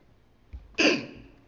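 A single short sneeze, close and moderately loud, bursts out in a quiet city council meeting room.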